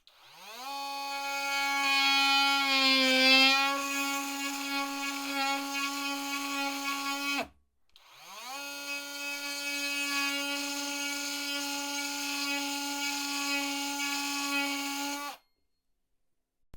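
A brushless Enventor 20V 300W cordless oscillating multi-tool cutting a laminate door frame, a steady high buzzing whine with a strong tonal pitch, two long continuous cuts separated by a short stop.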